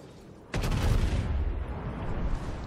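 A sudden heavy boom at about half a second, followed by a long rumbling roar of naval cannon fire from the battleship Texas in World of Warships that slowly fades, with a low ambient hum underneath.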